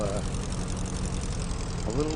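A Piper J3 Cub light aircraft engine idles in a flight simulator game, a steady, low continuous drone, with faint voice-like sounds briefly rising at the start and end.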